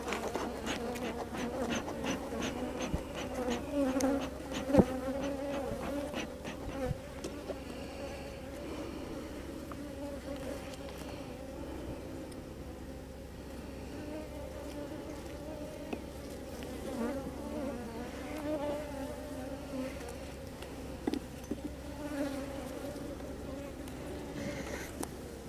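Guard honey bees buzz continuously inside an opened hive, a close, steady droning hum with occasional sharper passes near the listener, and a person speaks quietly beneath the buzzing.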